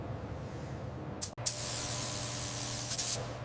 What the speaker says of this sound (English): First layer of primer is down.